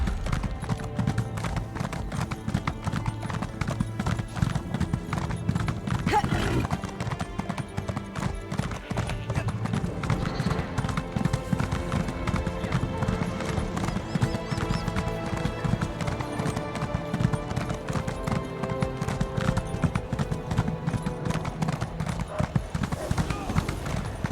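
A horse is ridden in Elder Scrolls Online, its hoofbeats clip-clopping in a steady, fast rhythm throughout, while voices talk over it.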